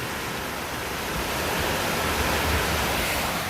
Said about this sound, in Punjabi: ਮੀਂਹ ਹੋਰ ਵਾਧਾ ਹੋ ਰਿਹਾ ਹੋਰ ਵਧ ਰਿਹਾ ਮੀਂਹ